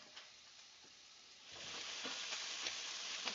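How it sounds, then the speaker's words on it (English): Sautéed vegetables sizzle steadily in a pan, with the frying hiss swelling louder partway through as they are stirred, alone and close with no talk. "I'm going to just stir these veggies real quick."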